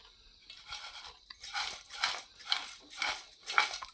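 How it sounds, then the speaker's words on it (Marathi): Several crisp, crunchy chewing bursts of fried potato chivda close to the mouth, repeating in an uneven rhythm with no talking. "पायल खाऊन पण बघते कसा झालाय तो"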